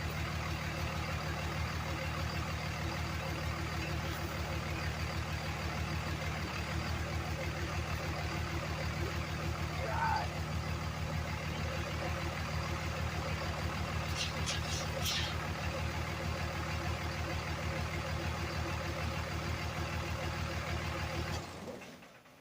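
A 2003 Dodge Cummins diesel pickup idles steadily up close, a loud, even low rumble with rhythmic clatter that holds for over twenty seconds before cutting off at the end.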